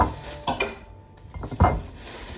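Plates and dishes clink and clatter in a home kitchen in a new flat, a few distinct knocks of crockery, fairly close, then quieter handling between bursts, with no talking.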